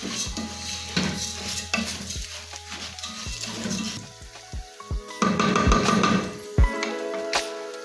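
Vegetable stew with golden-browned rice is stirred in a pan, with repeated close scrapes and clinks of a utensil against the metal over a soft sizzle, the strokes coming in irregular bursts.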